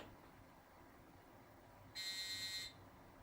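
A computer gives a short run of electronic startup beeps on power-up, a bright steady buzzing tone lasting under a second, close and fairly loud against a faint quiet room background.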